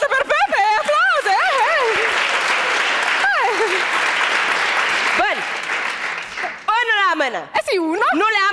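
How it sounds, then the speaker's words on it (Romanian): Clapping from a television show audience rises under a loud, expressive voice with laughing and exclamations throughout, the applause mostly masked by the talk. "Aplauze pe Pepe, aplauze!"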